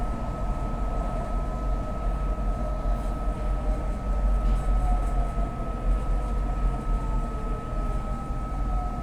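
A Market Frankford Line elevated train rides along with a steady, loud rumble, a constant high whine and rail noise, with no voices heard.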